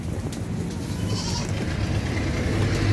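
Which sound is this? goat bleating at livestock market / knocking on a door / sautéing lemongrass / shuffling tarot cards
goat bleating at livestock market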